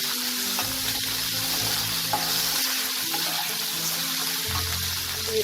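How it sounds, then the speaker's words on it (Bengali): Potatoes fry in a pan with salt and turmeric, giving a steady sizzle with scraping stir strokes throughout, close and clear with no talk. "এতে আমি অল্প একটু নুন, 1 চিমটে একটু হলুদ দিয়ে আলুটাকে লাল করে ভেজে নেব।"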